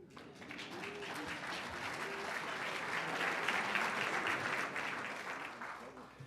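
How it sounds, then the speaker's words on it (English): Audience applause with cheering fills a U.S. Astronaut Hall of Fame induction ceremony in 2013, a dense, steady wash of clapping that swells through the middle and holds loud throughout, with a few whoops and shouts rising above it. "Curt Brown has about the largest cheering section here"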